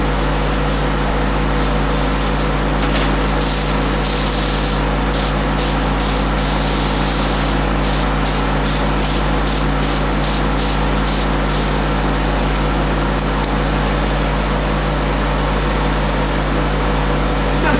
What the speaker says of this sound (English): we press the nitrogen gun to release the excess gas in the